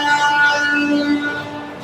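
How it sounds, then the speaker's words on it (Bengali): Train passing close beside a building under renovation in Chandannagar, a loud sustained rumble with steady tonal whine from the rails that fades slightly toward the end. "পাশে কিন্তু ট্রেন যাচ্ছে।"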